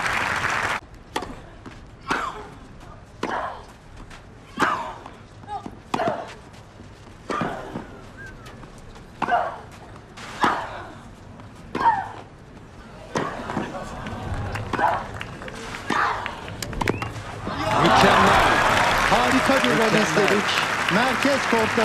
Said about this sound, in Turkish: Merkez kortta büyük alkış.